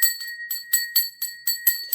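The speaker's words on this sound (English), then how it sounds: "I'm just going to do a little ring of the bell" A small bell is struck repeatedly in a quick, uneven rhythm, each bright metallic ting ringing clearly and close up with a steady high tone. Nothing else is heard.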